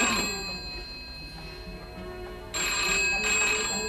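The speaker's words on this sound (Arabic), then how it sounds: "رد على التليفون" A telephone rings with a bright electronic bell tone, a faint ring at the start and then a louder sustained ring after a pause, close by with a low room murmur underneath.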